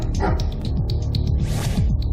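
A pet dog barks repeatedly at close range, a run of loud, sharp barks in quick succession with a brief yelp among them, heard alone without voices.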